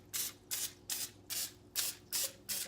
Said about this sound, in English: spraying a little bit of squirt of Pam in each liner